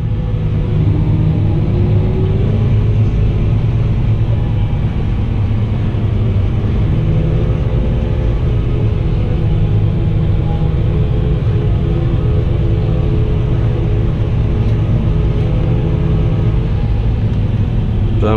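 A Fendt 1050 tractor engine rumbles steadily and low from inside the cab as the tractor turns around in a field, a constant heavy drone with no talk.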